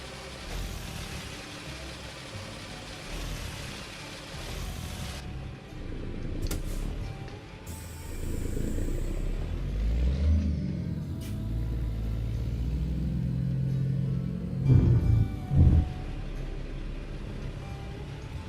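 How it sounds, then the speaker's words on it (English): A Peterbilt 388 wrecker truck in a trucking video game rumbles along with a deep engine and exhaust drone, rising and easing through revs for a long stretch, with a few clunks near the end. "I would love Z-Mods to release an M11 engine with this type of exhaust sound"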